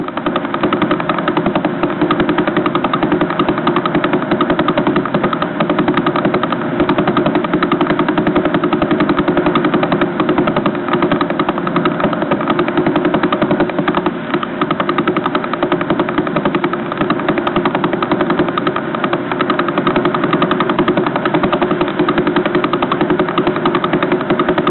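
A pulsar's radio signal from a radio telescope played as audio: a steady, rapid buzzing pulse like a fast mechanical flutter, continuous and loud without pause, with a gritty, static-laden texture.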